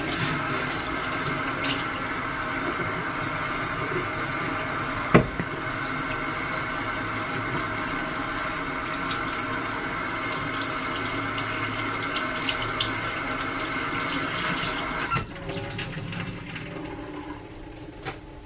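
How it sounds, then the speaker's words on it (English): A kitchen tap runs steadily into a sink during handwashing, a continuous close rush of water for about fifteen seconds with a brief knock partway, then cutting off to quieter splashes and handling. "throw this away and wash my hands"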